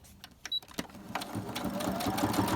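A sewing machine stitching a laminated file folder pocket. A few scattered clicks and thumps lead into a steady, rising machine whir that runs to the end, close and moderately quiet.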